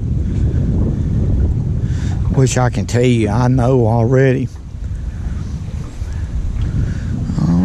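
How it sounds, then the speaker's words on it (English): Wind buffets the microphone on a boat while crappie fishing, a loud steady low roar with water noise, continuing under a man's brief speech and easing slightly afterward. "Because the wind's coming this way."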